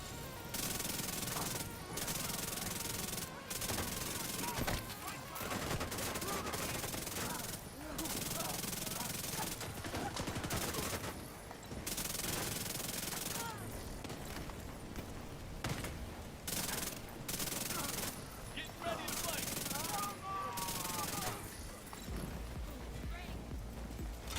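SMG gunfire in The Division 2, heard as repeated rapid bursts of shots throughout, close and loud, with someone talking over the shooting.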